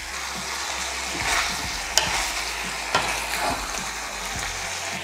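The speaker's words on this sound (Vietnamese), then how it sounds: "Giờ mình xào cho thịt của mình săn lại nha" Pork sizzles as it is stir-fried in a pan, a steady frying hiss broken by scraping strokes of a utensil and a few sharp clinks, close up with no talking.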